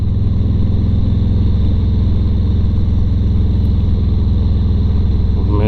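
Motorcycle fitted with Vance & Hines 4.5 inch exhaust pipes gives a steady, loud, deep rumble, the engine idling or cruising evenly throughout with no talk over it.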